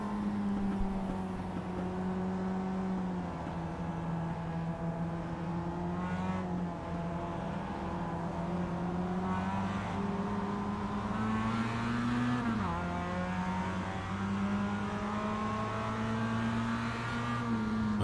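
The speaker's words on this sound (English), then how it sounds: "we are on board Kellyman as the pace car pulls in" Race cars in a sim racing video game on the Charlotte Roval, heard on board as the pace car pulls in, with a steady droning engine whose pitch rises and dips through gear changes and other cars audible around it.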